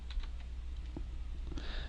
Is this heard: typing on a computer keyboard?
yes